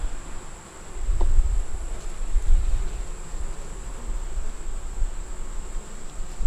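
A dense, steady buzz of many honeybees in a hive hums close up, continuous and low, with no voices over it.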